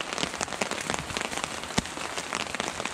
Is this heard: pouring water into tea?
no